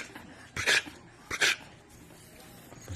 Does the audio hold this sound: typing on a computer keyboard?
no